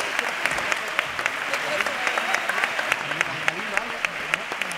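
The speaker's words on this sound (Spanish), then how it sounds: "Fuerte el aplauso para Julia García Galindo." Steady audience applause at a carnival proclamation event, a crowd clapping continuously at moderate loudness with individual sharp claps standing out, while a voice speaks over it.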